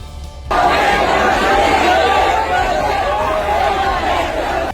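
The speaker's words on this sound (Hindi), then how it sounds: "काशीपुर के अली खां मोहल्ले में आधी रात को लोग आई लव मोहम्मद के नारे लगा रहे थे।" Large crowd at night in Ali Khan Mohalla, Kashipur, chanting slogans, a dense roar of many voices that swells in abruptly and stays loud and continuous.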